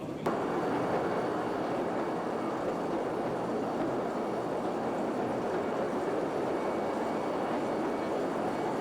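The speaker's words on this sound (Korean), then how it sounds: "소금 광산으로 가기 위해선 먼저 레일 위를 달리는 조그만 기차를 타고 1km 이상을 들어가야 한다" Continuous low rumble of a small mine train rolling along rails into a salt mine in Salzburg, Austria, steady and close, with a faint click at the start and no pauses.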